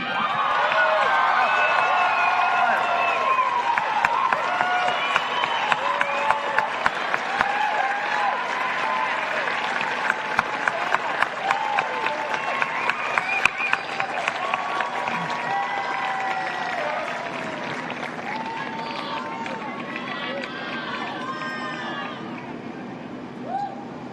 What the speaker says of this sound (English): So let's give a big round of applause to Lieutenant Colonel Jeremiah Kirschman.